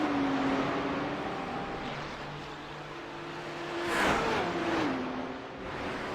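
GT3 race cars, a Lamborghini and a Porsche, racing nose to tail at Bathurst, their engines a steady droning whine that shifts pitch as they pass, with a louder swell midway.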